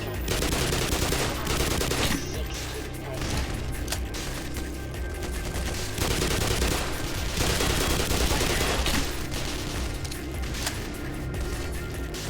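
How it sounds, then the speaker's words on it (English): A grenade exploding amid dense gunfire in the video game Black Mesa, a continuous loud wash of shots and blasts filling the whole stretch with no pauses. "That's a grenade."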